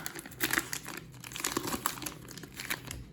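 A Jumbo Score trading card pack wrapper is torn open, with crinkling plastic foil rustling and crackling in short bursts close by, no talking.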